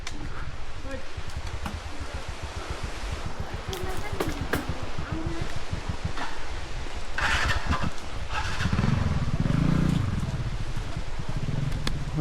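A scooter riding along a road, its engine droning loud and close with a steady buzzing putter and rushing wind noise, rising briefly near the end.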